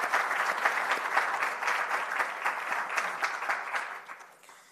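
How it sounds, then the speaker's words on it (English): Symposium audience of researchers giving a sustained round of applause, a dense wash of many hands that holds steady for several seconds and then tapers off at the end. "Another round of applause to Dr. Dlamini"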